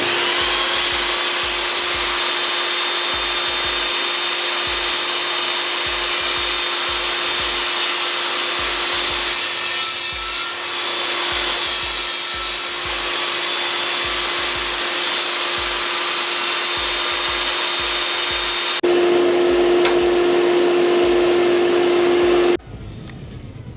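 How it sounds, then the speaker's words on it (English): Table saw cutting wood: a loud, continuous motor whine with the blade grinding steadily through the workpiece, pitch shifting under load, then a change in tone near the end as the cut finishes and the saw spins down. "I think we're about ready to cut some stuff on the table saw"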